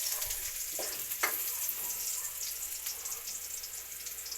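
Onion and garlic sautéing in a home pan give a steady close sizzle and hiss throughout, with a couple of brief clinks or taps from stirring early on.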